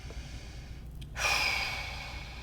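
During a hip mobility stretching class, one long breath is drawn in and then pushed out as a soft, airy exhale that starts after a brief pause and fades gradually.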